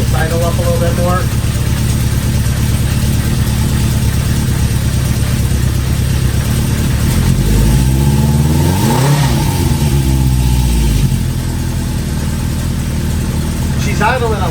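A 1973 Harley-Davidson Sportster motorcycle idles nearby with a loud, steady, throbbing engine note, blipping its revs briefly up and back down midway through before settling again.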